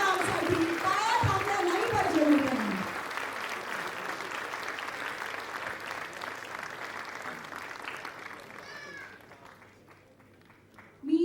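A crowd claps loudly at a film trailer launch event, the applause swelling and then thinning out over several seconds, with a voice speaking over it near the end.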